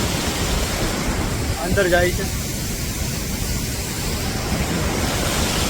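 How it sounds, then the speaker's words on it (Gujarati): The Jamjir waterfall in Gir tumbles from above with a dense, steady roar that fills the whole scene at high volume. Someone briefly speaks over it. "કેવો મસ્તીનો ધોધ પડે ઉપરથી જોઈ લ્યો"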